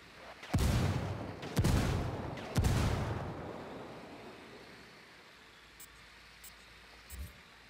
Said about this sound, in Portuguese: Eu pedi disparos indiretos para os rebeldes.